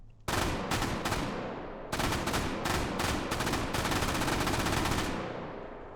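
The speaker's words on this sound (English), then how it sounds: "this is a cool weapon. MG42, one of my favorites" MG42 machine gun fired in the VR game H3VR, rapid loud bursts of automatic fire, a short burst and pause, then long sustained strings of shots that trail off with echo.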